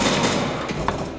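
Gunfire rattles out of a shooter video game played on a 2019 16-inch MacBook Pro laptop. Quick clustered shots punch through a dense, noisy game soundscape, with no talking.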